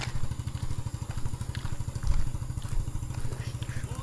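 A motorcycle engine runs steadily nearby outdoors on a farm, a continuous low rapid chugging pulse with occasional thumps and rattles, fairly loud and without clear talk.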